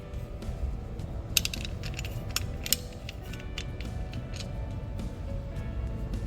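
A coin turning a screw tight during blade replacement on a TUCK IN series device, giving faint, quiet clicking and scraping ticks in an irregular run over low room hum.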